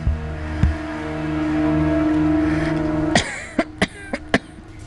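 A person coughing in a dramatic scene, a sustained hum giving way to a run of sharp, close, loud coughs in quick succession.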